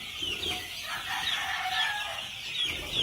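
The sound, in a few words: gamefowl chickens clucking and crowing at a game farm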